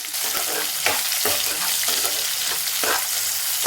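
Green chilies and onions fry for a chicken fry, a bright, dense sizzle with the crackle of oil close by and occasional stirring scrapes in a pan.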